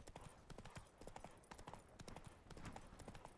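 Roach the horse trotting in Witcher 3: a quick, steady clip-clop of hooves, continuous and fairly close but faint overall, with a bit of background game ambience.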